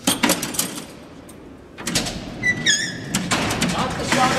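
An Alcatraz prison cell door on its night tour, heard through metallic clanks and a sliding rumble with a sharp screech midway, set among bursts of crowd murmur and echoing room noise.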